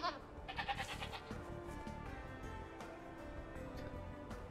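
Goats in the video game Age of Empires 2 DE give a few wavering bleats close up at the start, followed by a low, steady game soundscape.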